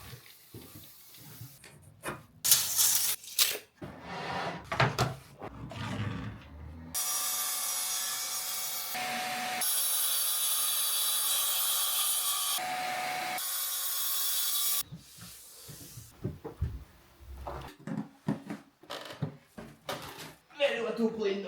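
Long, steady rasping strokes of a hand plane shaving the edge of a wooden internal door, several passes in a row, with quieter knocks and handling noises before and after.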